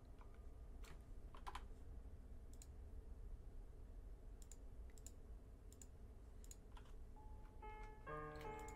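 Separate, sharp key presses on a computer keyboard while playing the horror game Granny, spaced irregularly over a steady low noise bed, with a short tonal game sound at the very end.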